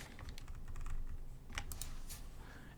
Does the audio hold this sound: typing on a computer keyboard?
yes